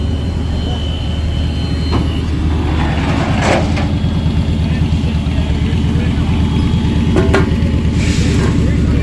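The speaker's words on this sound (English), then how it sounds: "Wow, that's a big wrecker for that little truck" A big wrecker tow truck at a three-car crash scene, its heavy engine rumbling steadily and close by throughout, with voices talking over it.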